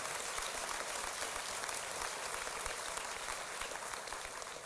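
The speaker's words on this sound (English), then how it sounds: "So why don't we clap it up for Denver Kids?" Applause from an audience at a keynote during an annual breakfast gala, a dense, steady patter of many hands clapping at once, heard from a distance and fairly faint.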